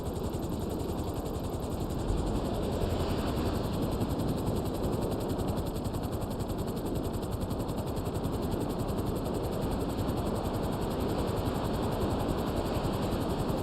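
Helicopter from GTA Online: a steady, loud rotor-and-engine drone with a fast chopping beat holds throughout at constant level, close and continuous with no talk.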